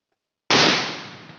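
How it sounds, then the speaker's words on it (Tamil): A Diwali firecracker goes off in a single sudden, loud, close blast after a short silence, its sharp crack fading into a brief decaying rumble. "ஆனால் வெடி நல்லா சவுண்டு கேட்குது."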